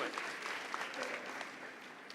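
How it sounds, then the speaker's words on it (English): Delegates at a town meeting on resolutions applaud together, a moderate, even patter of many hands that holds steady throughout. "Give yourselves a round of applause."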